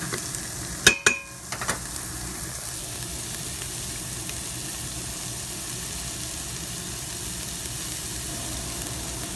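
Onions sauté in oil in an Instant Pot, a steady sizzle that runs throughout after a brief clatter of utensils near the start, with no one talking.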